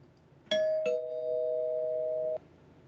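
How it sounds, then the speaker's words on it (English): Two bright metallic tones from a spoiler bell strike in quick succession, the second ringing on steadily for over a second before cutting off; near and clear, no talking. "I will ring the spoiler bell in 3, 2, 1."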